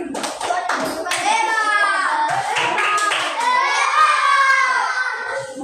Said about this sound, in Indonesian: tepuk tangan kepada kelompok ini